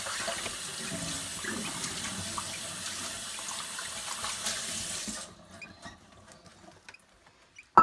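Hot water for lovebird chick hand-feeding formula pours steadily with a rushing, splashing sound for about five seconds, then cuts off, leaving faint clinks and quiet handling noises.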